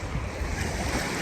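Sea waves surge and wash steadily onto Mandarmani beach, a broad continuous roar of surf with gusty wind buffeting the microphone, no voices present.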